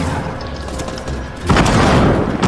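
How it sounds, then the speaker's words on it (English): A grenade blast in the battle royale game Fortnite, heard as a loud, dense boom that swells from steady game noise about halfway through and holds for the rest of the moment, with no talk over it. "I can throw grenades in there."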